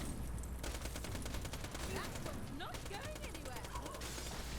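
The Fatale legendary SMG fires in Borderlands The Pre-Sequel, rapid continuous bursts of gunfire running throughout, faint and mixed with game effects and a talking voice.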